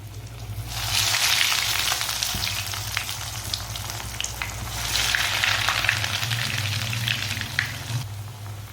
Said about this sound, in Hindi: देख के डालना, ऑयल बहुत गर्म है।